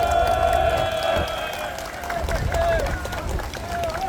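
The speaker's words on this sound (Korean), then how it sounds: "우리 장재현 박사께 어머니 박수부터 한번 보내겠습니다" Audience applause at an outdoor press conference before a hunger-strike protest: a steady mass of clapping from a gathered crowd, moderately loud and sustained for several seconds, with a tonal hum running underneath and some faint crowd murmur.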